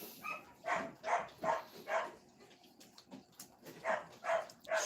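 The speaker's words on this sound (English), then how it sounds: "Sorry about the dogs. Hopefully they'll stop pretty soon." Several dogs bark in repeated bursts, about eight loud yaps in a steady rhythm with a brief lull in the middle, fairly close and with no talk over them.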